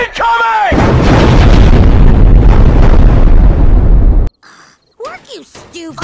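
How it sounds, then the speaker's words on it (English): A cartoon bomb explosion effect lands as a huge, loud, sustained blast that roars for several seconds and then cuts off sharply. Character voices speak just before and after it. "Tactical nuke incoming!"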